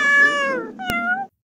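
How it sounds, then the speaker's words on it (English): Cats meow in two loud, clear, drawn-out cries close to the mic, the second one briefly cut by a sharp click, then silence. "are 12 cats stuck in a tree."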